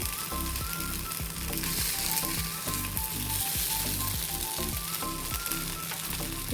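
Sabudana appe sizzle steadily in a hot appe pan as they are turned one by one, with a loud, continuous crackle and faint clinks of a spoon against the pan, close by and without talk.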